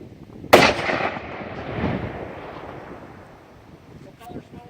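Explosives detonating during IED training: one sharp blast followed by a long rumbling decay outdoors, with a voice faintly audible near the end.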